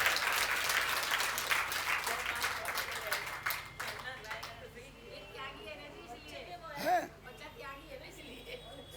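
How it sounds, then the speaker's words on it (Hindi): Audience applause at a Hindi spiritual gathering, loud and dense at the start, then thinning out over several seconds as speech and crowd chatter take over. "तालियां बजाओ।"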